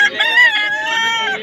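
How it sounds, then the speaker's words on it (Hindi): Several roosters crow over a busy background of clucking hens at a Sunday market, a dense, continuous chorus of fowl close by. "ये भी मुर्गे, मुर्गियाँ।"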